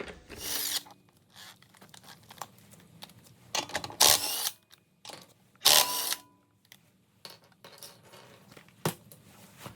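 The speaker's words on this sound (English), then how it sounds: "the lugs are 19 mil, so we'll start by taking off the wheel" Lug nuts, 19 mm, come off the front wheel of a 2017 Acura RDX in short, loud bursts of power-tool whirring, separated by quieter clicks and handling noises in a garage.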